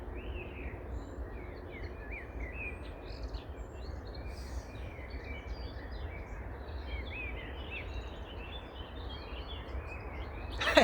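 Birds chirping faintly in the distance over a steady low rumble of wind or engine noise, outdoors with no talking.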